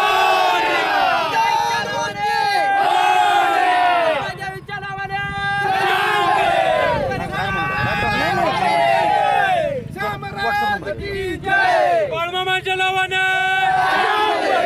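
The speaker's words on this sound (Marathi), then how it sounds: "जल्लोष करा, जल्लोष करा." A large crowd of spectators at a bullock cart race in Karad roars and shouts in waves, with overlapping excited voices and cries rising and falling throughout, loud and close.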